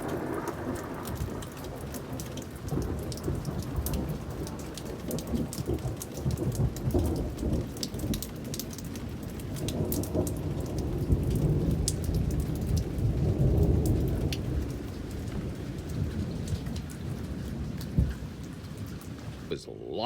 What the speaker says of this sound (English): It's also raining.